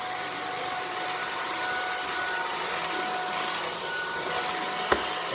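Puppyoo A9 cordless vacuum cleaner running at a steady, moderate whir with a faint high whine and one brief tap near the end.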